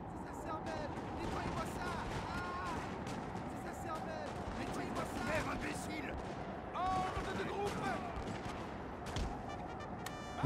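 Cannon and musket fire on a Total War: Napoleon battlefield, a dense rolling stream of booms and crackling volleys under ongoing battle noise and scattered voices, with a sharper shot at the very end.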